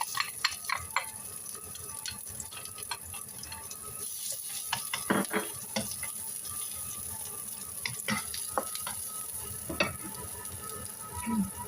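Chili peppers sizzle in hot oil in a home kitchen pan, a steady fizzing hiss broken by scattered sharp pops and crackles, fairly close and moderately quiet, with no talking.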